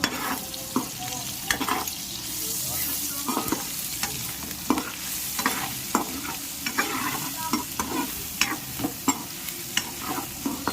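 Beef with ginger-garlic paste and spices stirred in a pan for a beef fry, a spoon scraping in irregular strokes over a soft steady sizzle, close and moderately quiet with no talking.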